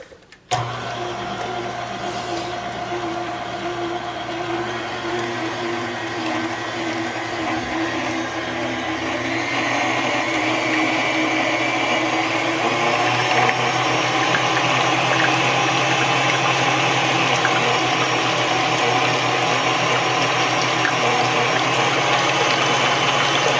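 Pumpkin pie filling being mixed with an electric mixer or blender, a steady continuous motor whir with wet churning that grows slightly louder partway through, alone without talk.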